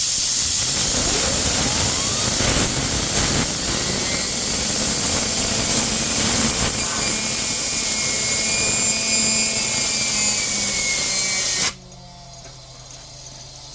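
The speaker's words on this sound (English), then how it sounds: "we take a handy dandy air gun, aim it in the right place," A handheld compressed-air gun blasts into a rusty old part to blow it clean and spin it up, giving a loud steady rushing hiss with a rising whine that cuts off abruptly near the end.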